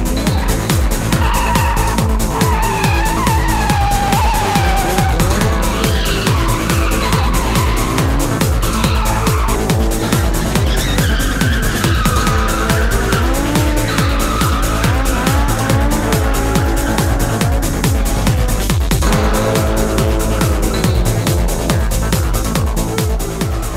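Street cars drift at an underground Japanese street-racing meet, with long, wavering tire squeals over loud, continuous engine roar, sustained throughout with no pauses.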